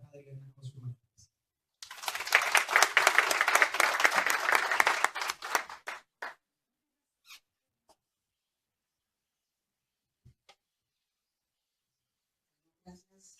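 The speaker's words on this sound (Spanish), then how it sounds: "Les pido un fuerte aplauso para la primera participación de esta noche" Audience applause for the first participant of the evening at a social work panel discussion, a loud burst of clapping lasting about four seconds, then fading into near silence with faint scattered noises.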